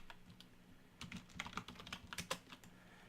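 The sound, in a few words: typing a name on a computer keyboard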